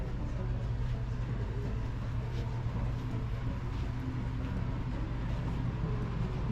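Trains in a railroad switching yard in Nebraska give a loud, steady low rumble with a continuous droning hum, sustained and even throughout without pauses.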